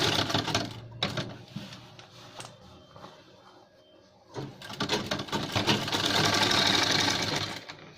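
Sewing machine running in bursts while stitching a gents shirt seam, a fast close mechanical whirring that stops briefly, then returns louder and steadier toward the end; no voices.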